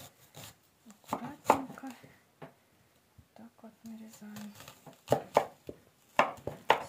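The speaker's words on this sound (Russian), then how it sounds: "Теперь берем лучок побольше и нарезаем его вот такими вот кольцами" Knife slicing a large onion into rings on a cutting board in irregular bursts of sharp, close taps, with brief pauses and faint soft murmuring in between.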